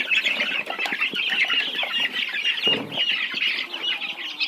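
Chickens cluck busily and continuously close by, with overlapping calls and some rustling movement, as they are fed boiled grain.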